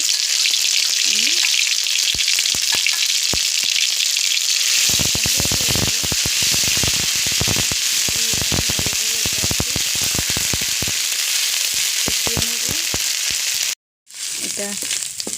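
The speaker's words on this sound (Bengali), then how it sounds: "মশলাটা পেঁয়াজটা একটু ভালো করে ভাজা হয়ে গিয়েছে" Onion with a ground paste of chilli, cumin and coriander frying in a pan for hilsa pulao, a loud continuous sizzle with frequent sharp crackles and stirring scrapes, broken by a brief cut near the end.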